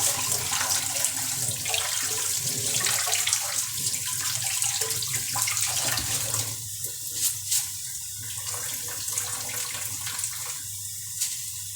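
Tap water runs steadily into a kitchen sink while bulgur is washed, a continuous hissing splash with faint clatter, no talk.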